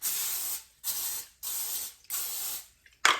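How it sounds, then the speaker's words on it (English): Four short bursts of aerosol cooking spray hiss close by onto chicken in a kitchen, each lasting about half a second, separated by brief silences, followed by a quick final spritz. "I have just some spray, and I'm gonna spray this"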